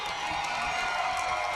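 Crowd cheering after a goal in the final of the over-40 women's field hockey match between Australia and Argentina at the Masters World Cup, a steady roar of voices throughout.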